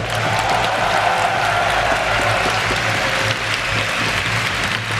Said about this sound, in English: let's give a round of applause for the LCS